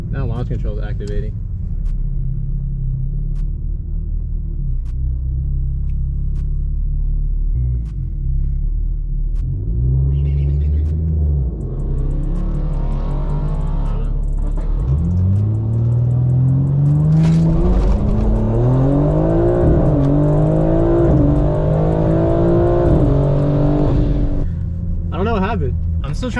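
A rear-wheel-drive BMW G82 sits on launch control at a track, its engine rumbling and holding revs, then surging loud and close as it launches and climbs through the rev range.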